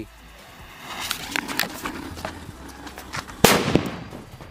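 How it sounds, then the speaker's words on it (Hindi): A few scattered clicks and rustles, then a single sharp, loud sutli bomb firecracker blast rings out close by from inside a hole in the ground and quickly fades. "लास्ट वाला सुतली हम टेस्ट करते हैं देखते हैं इसका कितना धमाका देखने को मिलता है"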